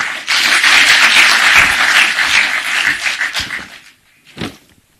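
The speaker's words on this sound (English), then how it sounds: "Let's give him another round of applause," Audience applause for a speaker at a government convening on ending illicit brew in Central Kenya, a loud sustained clapping wash that fades out after about four seconds, followed by a brief final burst.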